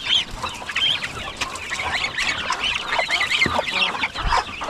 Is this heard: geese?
yes